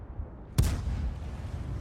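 A single sharp tank cannon shot from World of Tanks booms out suddenly, followed by a rumbling low tail that fades over about a second.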